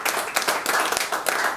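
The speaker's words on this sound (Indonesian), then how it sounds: "Berikan sorak-sorai buat Tuhan Yesus." A church congregation claps rapidly and enthusiastically in praise of Jesus, a dense burst of hand claps with some cheering mixed in, filling the space for a brief moment.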